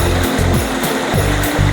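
A waterfall flows at a natural spot in northern Thailand, a loud, steady rush of water with a churning low rumble that fills the whole moment, with no voices.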